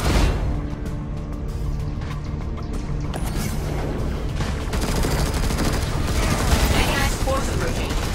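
Weapon fire against a gate in the game Master X Master rattles in a dense, sustained barrage with mechanical clatter, loud and continuous, growing busier toward the end, with no voices.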